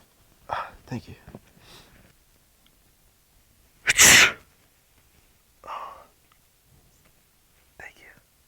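A single sharp sneeze in a quiet library, bracketed by soft whispering voices before and after.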